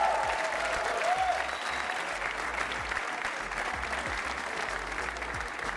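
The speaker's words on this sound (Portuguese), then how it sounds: "Um aplauso para vocês, vocês continuam em jogo." Studio audience applause on a TV game show, dense continuous clapping from a crowd at an even level, with a faint voice briefly heard early on.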